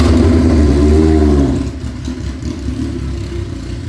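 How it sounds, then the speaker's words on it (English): A 1985 Suzuki GS1150 street and drag racing motorcycle runs loud and close with a deep pulsing engine note, then drops off after about a second and a half to a quieter, rougher idle. "Keep it running, ride it in."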